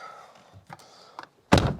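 A Nissan Navara door thunks shut with a solid, close impact near the end, after a few softer handling knocks as the driver climbs in.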